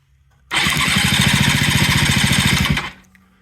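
A Yamaha CV80 80cc scooter engine cranks over with the starter for about two and a half seconds, a loud, steady, rapid chugging churn that stops abruptly, with no talking.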